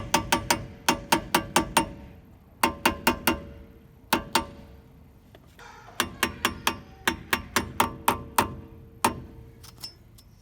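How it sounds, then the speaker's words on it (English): A hubcap is tapped onto the front hub of a 1997 Nissan pickup, sharp metallic knocks coming in quick clusters of three to five with short pauses between, close and clear with no talk. "And last, we're gonna be installing the hubcap."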